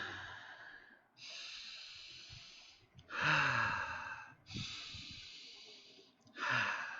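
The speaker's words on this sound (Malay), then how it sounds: "Cuba cikgu nak tengok semua orang tarik" Several people in a primary science lesson on human breathing draw in audible breaths in repeated long inhalations, each a breathy airy rush lasting about two seconds with short pauses between, fairly close and without talk.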